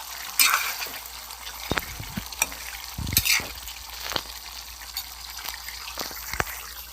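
Potatoes frying in a pan while being stirred: a steady soft sizzle under scattered scraping and clinking stirs, close and moderately quiet.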